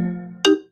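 A phone call rings through a computer during a live space-news stream, a short steady electronic tone that ends in a brighter, louder chirp before cutting off.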